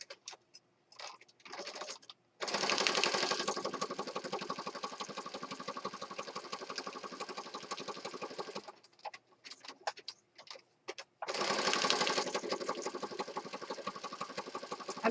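Sewing machine stitching a paper journal element, running in two long continuous bursts of rapid mechanical stitching, separated by short pauses with light handling clicks and rustles.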